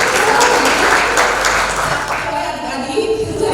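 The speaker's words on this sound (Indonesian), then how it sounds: "boleh tepuk tangan buat Kak Emil." An audience claps loudly, the applause dense at first and thinning out toward the end.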